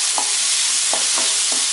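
Bitter gourd pieces sautéed with salt in a pan: a loud, steady frying hiss with several spoon stirs scraping and tapping the pan at irregular intervals, no voices.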